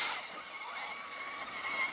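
Traxxas Maxx RC trucks churning through swamp mud, giving a steady broadband motor whine and splashing that holds at a fairly even level for the whole stretch, with no talk over it.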